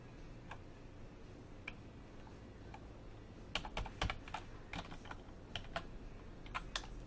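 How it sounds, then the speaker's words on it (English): Typing on a computer keyboard while entering items into an order, a run of light, close key clicks that starts sparse and grows into irregular quick bursts, quiet and alone without talk. "I am going to type in the items that she purchased."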